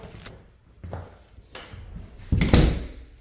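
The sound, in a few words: closet door opening and closing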